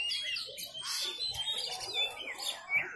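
An oriental magpie-robin sings at a crowded songbird contest, with bright, rapid chirps and whistled phrases repeating throughout over a busy background of other birds and faint crowd noise.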